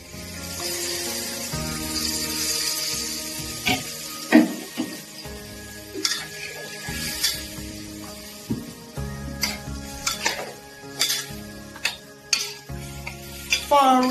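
Water goes into a wok of shiitake mushrooms and cured pork, which bubbles and sizzles steadily. A spatula scrapes and knocks against the metal in repeated sharp clinks over the cooking noise.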